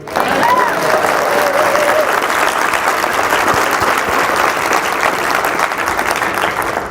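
A breakfast-event audience applauds loudly and continuously at close range, with dense clapping and some crowd noise holding steady from start to finish.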